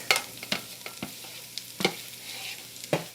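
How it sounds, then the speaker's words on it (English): Sausage and tomato paste are stirred in a pan, with a quiet sizzle under a handful of distinct close spatula scrapes and taps spaced irregularly. "Give it a little stir in there."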